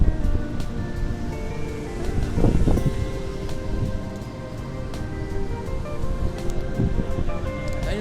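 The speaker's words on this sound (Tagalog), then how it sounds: "Ito, labas ng alon." Ocean waves break continuously at Sabang Beach in Baler, Aurora, a steady loud roaring wash of surf mixed with wind noise, with no voices over it.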